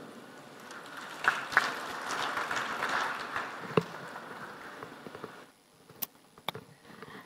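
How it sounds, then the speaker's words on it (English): Conference audience applauds at the close of a panel on energy financing for Africa, a moderate, somewhat distant clapping with a few sharper claps, fading out to near quiet. "a warm round of applause for Taria and as well as Mr. Wu Chong Am"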